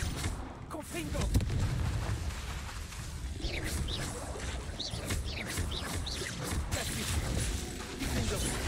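Repeated Confringo spell blasts from Hogwarts Legacy, a run of explosive bursts and whooshing impacts that keep coming at a steady pace under dense combat ambience, with a voice talking in the background.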